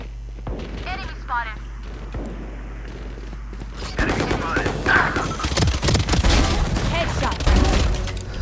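Sniper rifle gunfire in the tactical shooter game Valorant, heard as repeated sharp shots and dense bursts in the second half, loud and close, after a stretch of talk and game ambience.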